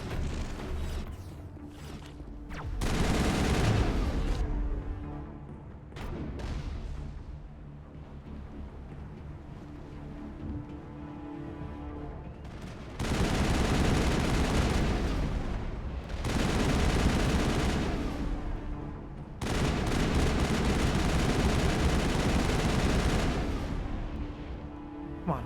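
Gunfire erupts in the video game Mass Effect during combat, with loud bursts of rapid shooting coming in several long volleys separated by quieter stretches of game ambience.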